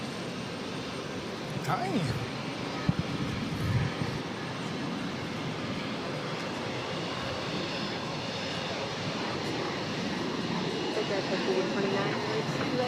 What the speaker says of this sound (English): The American 737 now rolling down at 22 right